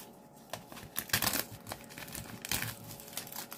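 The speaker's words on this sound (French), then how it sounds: "le cutter, donc, il va me servir déjà à ouvrir" Plastic packaging crinkles and tears close by as a cutter knife slices it open, a quiet series of rustling bursts with no talk.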